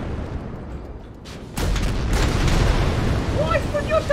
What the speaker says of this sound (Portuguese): Ué, explodiu o tanque.